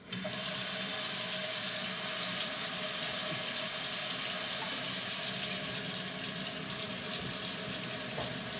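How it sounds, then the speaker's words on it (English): Steady tap water runs into a sink in a home kitchen where a cup waits nearby, a continuous even rush filling the whole stretch without pause, close and fairly loud, with no voices over it. "Y'all going to hear some water running here."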